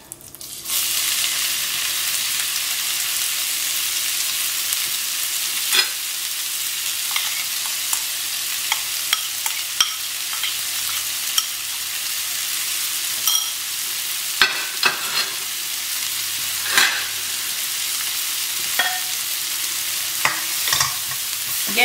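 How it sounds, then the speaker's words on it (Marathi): Sliced onions sizzle steadily in oil in a pan over a gas flame, a continuous bright frying hiss running alone for about twenty seconds, with occasional clicks and scrapes of stirring. "सेम तेलान न्हू आम्ही हे अनियन्स घालुया."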